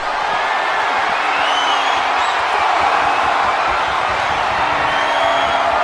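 A roaring arena crowd in a WWE 2K wrestling video game, cheering steadily and loudly with no breaks across the whole stretch.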